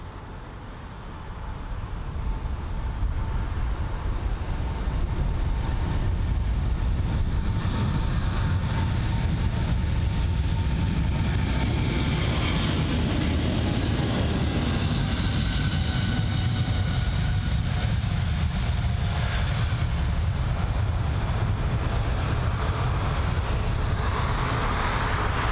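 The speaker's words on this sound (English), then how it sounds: "we've got a departure, the American Airlines Boeing 777," An American Airlines Boeing 777 departs at London Heathrow with a loud, continuous, broadband engine roar that swells and shifts in tone for the full length, heard from a distance with no talking.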